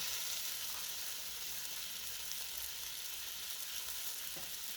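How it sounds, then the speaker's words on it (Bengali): Spice paste masala for egg curry frying in a pan with a little water and salt, a faint, steady hissing sizzle with only a couple of soft stirring touches. "এবারে মশলাটা খুব ভালো করে কষে নেব"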